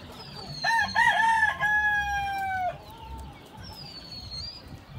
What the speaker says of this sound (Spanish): Ya están los gallos aquí, era dormiditos ya.